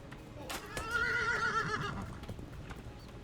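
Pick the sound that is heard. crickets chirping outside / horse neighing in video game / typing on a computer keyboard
horse neighing in video game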